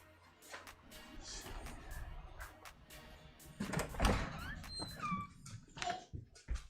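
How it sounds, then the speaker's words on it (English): A dog barks in short bursts indoors, mixed with high whiny whimpers and a few thumps. "What are you barking at? Somebody at the door?"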